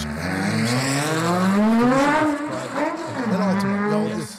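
An Ultima GTR supercar with a Chevy LS engine, revving loud and close with rising and falling engine notes and rapid shifts, heard as recorded playback.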